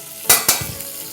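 Butter sizzles and crackles steadily in a hot pot, with two sharp clinks of a utensil against the metal near the start.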